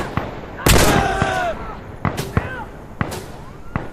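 Explosions and gunfire in the online multiplayer shooter Insurgency Sandstorm: a loud blast followed by several sharp bangs and cracks, with voices shouting between them.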